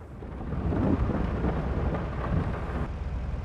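A steady rush of rain mixed with a low, rolling rumble of thunder fills a Farming Simulator 22 game scene, a continuous dense wash that eases slightly near the end, with no talking.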